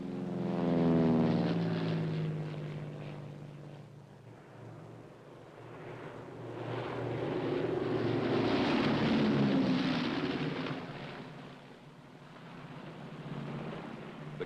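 Firefighting aircraft and small spotter planes droning overhead during a forest fire, a steady propeller roar that swells and fades as they pass, loud and continuous with no talk.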